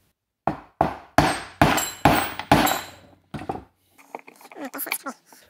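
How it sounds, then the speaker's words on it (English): Half a dozen sharp, ringing metal hammer taps knock a part through a wood gasifier grate, evenly spaced and close. Softer clatter and a voice follow after the strikes. "So I'm just going to tap this through slightly or lightly."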